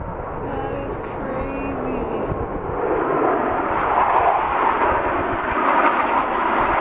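Blue Angels jets roaring low over a boat during Fleet Week in San Francisco, a loud broadband engine rumble that swells and stays heavy throughout, heard from the deck.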